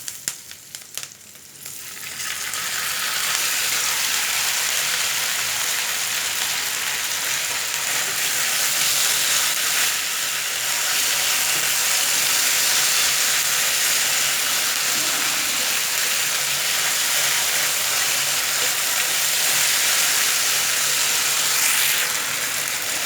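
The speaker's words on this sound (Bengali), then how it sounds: "এই যে শব্দটা হচ্ছে আসলে সিজলিংয়ের, এটাই হচ্ছে তার বৈশিষ্ট্য।" Chicken sizzles on a hot plate after onions were fried, giving a loud, steady hiss with no break that runs close and unbroken for the whole span, with no voices over it.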